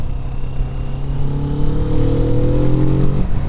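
A 2024 Kawasaki Vulcan S 650 parallel-twin of about 649cc pulls loudly and close while being ridden, its rising engine note climbing steadily over constant road and wind roar.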